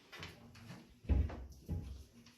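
Drawers used for filing in a hotel housekeeping setting are slid and bumped shut a few times, producing soft knocks and sliding scrapes in a quiet room.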